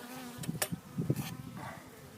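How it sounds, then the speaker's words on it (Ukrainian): Honeybees buzz at a hive entrance as workers clean out the hive and carry pollen, a close, brief cluster of wingbeat hums and flitting buzzes. "чистять вулик зразу, викидають бджілок"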